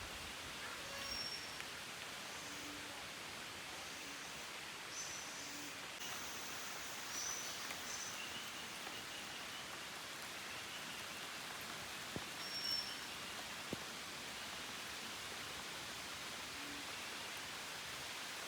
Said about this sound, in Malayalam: ചെറിയൊരു ചാറ്റൽ മഴയും കൂടി തുടങ്ങിയിട്ടുണ്ടേ